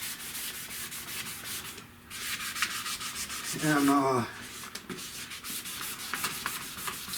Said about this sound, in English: I can actually hear the difference in the way the sandpaper sounds